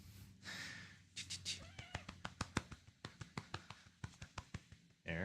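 A cat meows close by, a drawn-out cry at the start followed by a rapid series of short, sharp taps and clicks in an uneven rhythm, fairly quiet overall.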